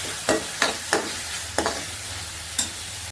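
Masala paste fries in oil over a low flame, a soft continuous sizzle punctuated by five or six brisk scraping strokes of the spoon against the pan, close by with no talk.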